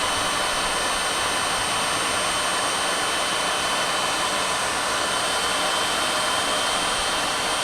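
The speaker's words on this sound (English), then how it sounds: "Now, heat shrink action." A heat gun blows hot air to shrink tubing over soldered wires for a Halloween display, a loud, constant broadband roaring hiss that holds evenly throughout with no talking.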